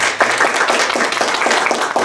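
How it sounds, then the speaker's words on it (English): A church congregation clapping during a Sunday morning service, brisk and fairly loud, with a rhythmic pulse running through the overlapping claps. "Can we give Jesus a hand clap?"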